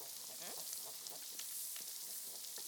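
Food sautéing in a pan during a Kenyan ugali, spinach and eggs meal, a continuous bright sizzle with occasional stirring scrapes, close and steady throughout.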